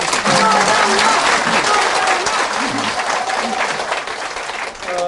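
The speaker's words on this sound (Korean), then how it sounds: "박수 아, 크게 한번 주세요" An audience claps loudly and steadily for about five seconds, a full room of applause with some crowd voices mixed in.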